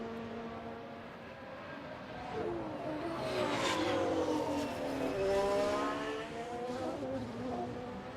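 Formula 1 race car engines in the F1 Manager 24 video game, a steady high-pitched whine that rises and falls in pitch as cars pass and rev, continuous and fairly loud with no talking.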